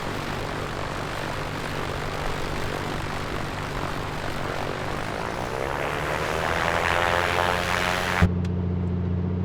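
Simulated A2A Comanche piston engine in MSFS2024, heard from outside as a propeller drone that swells as the throttle opens, then cuts off abruptly near the end.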